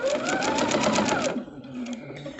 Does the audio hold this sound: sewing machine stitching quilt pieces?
yes